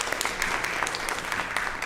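A small round of applause at a Sunday church service for All Souls Day, with scattered claps from a modest congregation, fairly faint and steady for a couple of seconds.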